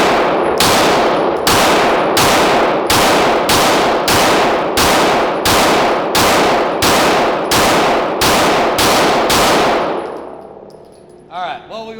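Rapid loud gunfire from a gun shooting Prometheon industrial ammo, about a dozen sharp ringing shots evenly spaced nearly a second apart, then the shots stop and faint clinks follow.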